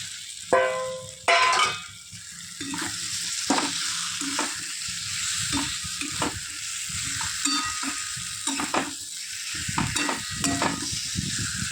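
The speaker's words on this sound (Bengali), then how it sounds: "কষানো হয়ে গেছে, এইবার আলুটা দিয়ে দিলাম।" Potatoes tip into a pan of frying spiced green pea filling for koraishutir kochuri, followed by steady sizzling and a series of close, rhythmic spatula scrapes and stirs, with no talking.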